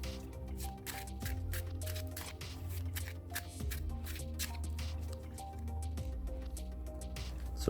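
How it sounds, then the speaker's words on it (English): Yu-Gi-Oh trading cards from a Gate Guardian deck are shuffled quickly up close, giving a rapid run of crisp, rhythmic flicks and riffles with a few soft taps between them. "Quick shuffle again."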